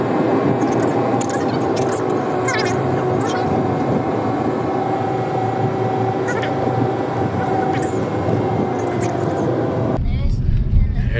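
A car driving out along Ediz Hook, the Spit, with a steady broadband road and engine rumble throughout, loud and close from inside, ending abruptly in a quieter tail.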